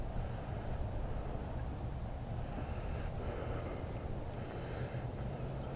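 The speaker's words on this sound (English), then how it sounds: "That wind freaked me out." Wind buffeting an outdoor microphone, a constant low rumbling roar with no other clear sounds.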